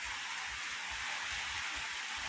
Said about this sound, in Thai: ฝนกระทบดินดินส่งไอร้อนขึ้นมาเลยค่ะ